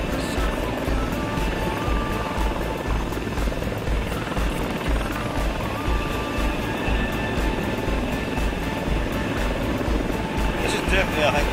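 Steady helicopter rotor and engine drone from a large helicopter in the FlightGear flight simulator game, constant and loud throughout, with people talking over it.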